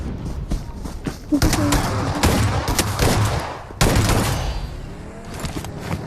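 PUBG Mobile gunfire crackles in quick bursts and sharp single shots over a busy background, with a voice talking faintly underneath.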